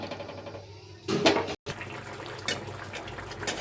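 Water splashes briefly into a pan of spiced potato and pointed gourd curry, a short gush over a low background hiss with a sudden cut, close up.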